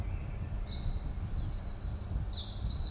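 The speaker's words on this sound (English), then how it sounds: "No sound but the birds." Birds sing in a quiet London street at 5 a.m., repeated high chirping phrases ringing out over a faint low background rumble.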